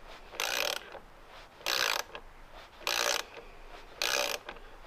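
A ratchet torquing down bolts on a gasket during a vehicle build: four loud, close bursts of rapid clicking, each under half a second long, separated by short pauses of quiet.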